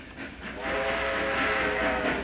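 A train roars by close and loud, with a sustained horn-like whistle tone riding over the rushing rumble.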